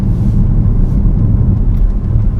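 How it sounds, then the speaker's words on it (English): Steady low rumble of road noise with a faint wind hiss, heard from inside a moving 2015 Chevrolet Spark EV; constant and fairly loud, no talking. "there's definitely wind noise, there's definitely road noise"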